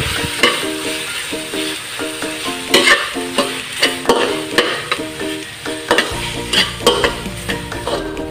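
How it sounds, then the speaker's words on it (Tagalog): Corned beef stirred with bitter gourd (ampalaya) in a frying pan, a spatula scraping and clacking in a steady rhythm over a soft sizzle, close and fairly loud, with no talking. "ilalagay na po natin itong ating corned beef. Then haluin lang po natin."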